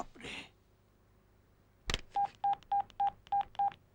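In a Telugu film comedy scene, a phone is dialled: after a short sharp click, six evenly spaced, clear touch-tone beeps sound in quick succession against a quiet background.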